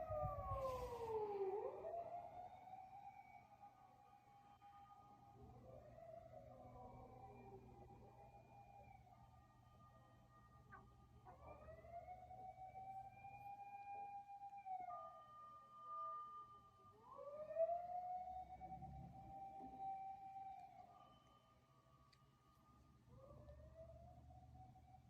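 Fire engine siren approaching in a Japanese neighbourhood, repeated rising and falling wails sweeping up and down over about twenty-five seconds, moderately distant and growing nearer, with no talk.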